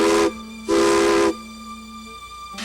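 Steam locomotive whistle on the Durango and Silverton Narrow Gauge Railroad departing Silverton, two loud chord blasts, a short one then a longer one, with the start of a third at the end, close and clear with no talk.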